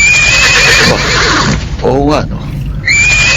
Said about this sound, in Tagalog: Kundi yung mga halinghing ng kabayo.